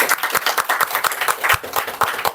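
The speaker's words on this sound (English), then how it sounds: "A big round of applause for Prashant." A small group claps for a guest at a Toastmasters club meeting, distinct fairly close hand claps in an uneven rhythm over a couple of seconds, with no talking.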